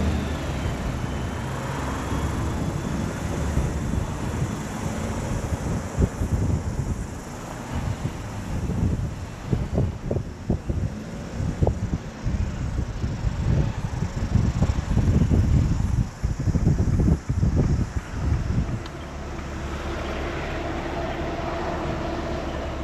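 Steady wind rushes and buffets across the microphone, with low rumbling gusts throughout and no clear voices.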